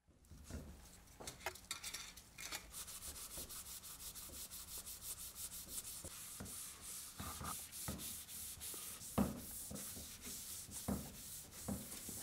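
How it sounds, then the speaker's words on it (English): A cloth wipes wax traces off a sheet-wax offset mould for a carbon fibre cover component using mould cleaner, producing quiet, steady rubbing strokes in a rhythmic series close by. "we're going to remove those with a mould cleaner"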